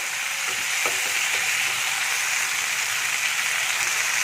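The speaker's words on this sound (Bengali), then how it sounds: "ওই জলের মধ্যে আমি এটাকে ভালো করে কষে নেব।" Vegetables such as onion stalks and Malabar spinach cooking down with dried fish in a pan, giving a steady, close, loud sizzle with faint scraping stirs, and no voices.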